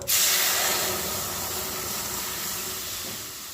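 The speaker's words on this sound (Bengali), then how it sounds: "এরপর আগে থেকে সেদ্ধ করে রাখা ডালটা আমি ঢেলে দেবো" Pre-boiled toor dal poured into hot tempering bursts into a loud, steady sizzle that starts abruptly and keeps hissing strongly throughout, alone with no voices.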